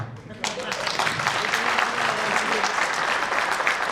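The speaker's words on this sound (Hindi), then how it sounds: "जोरदार तालियां लगाएंगे सर, जोरदार तालियां सर" Strong audience applause at an annual meet during a motivational speech, starting abruptly after a brief pause and holding as a dense, loud, sustained wash of clapping from a large crowd.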